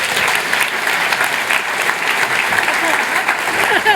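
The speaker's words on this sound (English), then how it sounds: "Give him a huge round of applause." A conference audience at a real estate event breaks into sustained, dense applause, a steady wash of many hands clapping close and loud for the full stretch, with a few voices mixed in.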